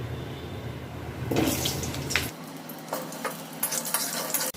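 Potatoes go into hot oil with white cumin and are stirred, bringing a sudden burst of sizzling and crackling followed by continued frying hiss with scraping stir sounds.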